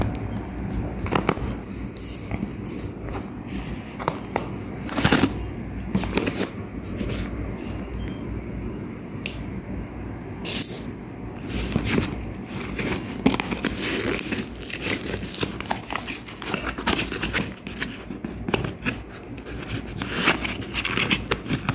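A plastic-wrapped, sealed package is opened by hand, giving close, irregular crinkling, rustling and crackling of plastic with occasional sharper snaps, continuing for about twenty seconds without speech.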